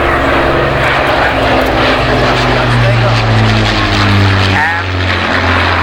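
A Lancaster bomber and a Spitfire 19 fly past at a Battle of Britain open day at Biggin Hill, their piston engines producing a loud, throbbing propeller drone that swells and shifts in pitch as they pass, with a commentator talking over it.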